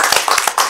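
A short burst of hand clapping from a small audience during an interview, several quick overlapping claps heard close and fairly loud for under a second.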